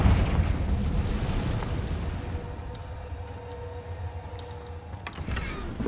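Confringo fire spell blasts in Hogwarts Legacy, a dense rumbling roar with crackling bursts that swells and sustains, a sharper burst near the end, no talk.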